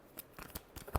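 A short handful of tarot card shuffling snaps, about four quick crisp riffles heard up close with no voice.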